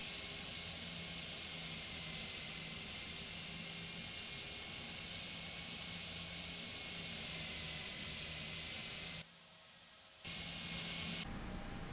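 Steady broadband engine hum and hiss of an Aegean Airbus A320 taxiing in the Prepar3D flight simulator, continuous and fairly even, with a brief dip in level near the end before resuming.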